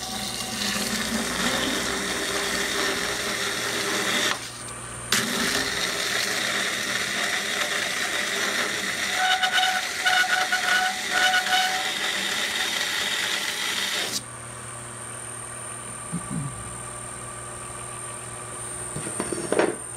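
A prototype 2x72 belt sander grinds under heavy hand pressure, a loud continuous abrasive roar with mechanical whine running nearly the whole time, dropping out briefly once, then easing to a lighter running hum near the end.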